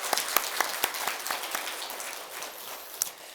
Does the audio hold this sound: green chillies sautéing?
no